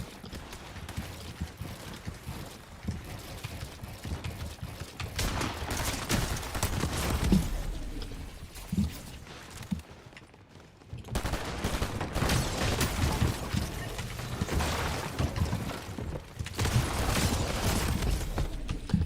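An SMG fires in Fortnite in rapid bursts of gunfire, several loud volleys separated by short lulls, with mechanical clatter between them.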